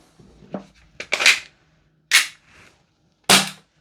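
A Double Eagle FN 509 gas blowback airsoft pistol fires three sharp, loud cracks at uneven intervals, each with a quick metallic slide snap, plus a few faint handling clicks before the first shot.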